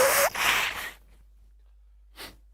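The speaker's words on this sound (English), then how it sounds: "First I need to blow my nose." A short, loud nose blow with a wet snort, then quiet and a brief faint rustle.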